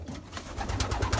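Young racing pigeons coo in a loft with nest boxes, soft repeated low murmurs close by over a brief stretch, with no one talking.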